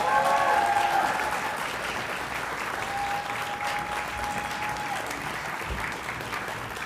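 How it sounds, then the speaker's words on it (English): Sustained applause fills the hall at an honors convocation as the audience honors individual academic achievement award recipients, a steady, even wash of many hands clapping throughout. "please give another round of applause to the recipients of Individual Academic Achievement Awards"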